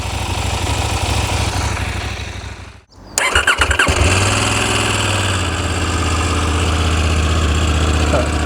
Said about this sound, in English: Familiar clutch chatter sound.